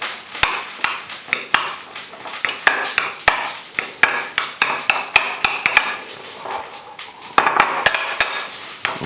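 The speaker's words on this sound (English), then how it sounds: "now this whole thing we mix nicely all together." A spoon scrapes and clacks steadily against a pan as a hot dog topping mixture is stirred, the sharp metallic knocks coming close and loud in an uneven rhythm with no talking.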